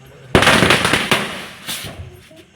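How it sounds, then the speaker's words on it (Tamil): Diwali firecrackers burst outdoors on a street: a sharp loud bang followed by crackling, rattling pops that fade, then another burst of crackle, with faint voices nearby. "வெளியில் வந்து கொஞ்சம் டம் டம் என்று வெடிக்கும் என்ற அந்த வெடியை மட்டும் வெளியில் வந்து வெடித்தோங்க"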